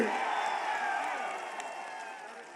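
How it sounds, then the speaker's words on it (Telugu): Steady, dense applause and crowd noise greet Priyanka Gandhi at a political rally in Kamareddy, a broad wash of clapping that holds at an even level and eases slightly toward the end. "పెద్ద ఎత్తున చప్పట్లతో స్వాగతం పలకండి"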